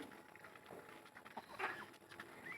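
Country chickens and roosters cluck faintly amid a noisy farmyard with cattle, with scattered short calls and rustling spread across the clip.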